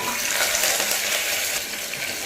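Shallots, seven dried red chillies and a sprig of curry leaves sautéing in hot oil, a steady close hiss and crackle throughout, with no talk.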